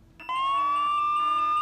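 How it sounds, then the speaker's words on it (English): An electronic alarm rings out abruptly and holds a steady, piercing tone with a faint pulsing warble, loud and continuous with no talk over it. "It's the cops. The alarm."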